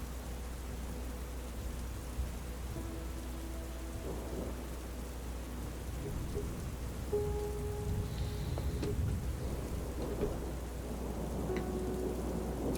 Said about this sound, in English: The rain sound effect is just a little strong because you can see in the shots that it's not like pouring the way the rain sounds.